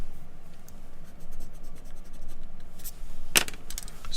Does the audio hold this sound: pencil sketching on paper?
yes